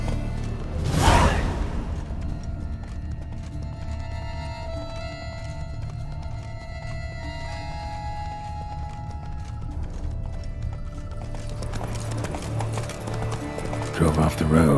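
Horse hooves clip-clopping at a gallop in The Witcher 3 game, steady rhythmic beats under continuous game music and ambience, with a brief whinny near the start.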